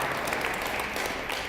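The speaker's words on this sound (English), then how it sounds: "I see someone getting ready to applaud," Applause from a lecture audience at an education talk, a steady wash of many hands clapping at moderate distance without a break, with no voices over it.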